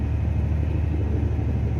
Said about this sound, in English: There goes the bed. We're dumping the truck.